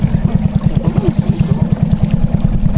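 A boat motors across a flooded river in Hulu Sungai Utara, its engine thumping in a fast, steady rhythmic chug, loud and close with wind and water noise beneath.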